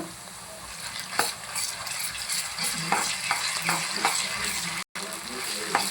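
Green chilies frying in hot oil until brown for a curry, giving a continuous close sizzle broken by stirring clinks and scrapes, with one brief dropout.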